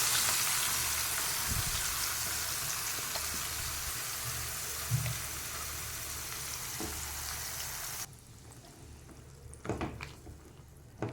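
Curry gravy hits hot oil seasoned with cumin and asafoetida, giving a loud, steady sizzle that drops abruptly to a quieter bubbling with a few clinks near the end.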